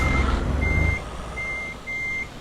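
Repeated reversing beeps from a truck backing up in Euro Truck Simulator 2, three steady electronic tones under a low engine rumble that is loudest at the start.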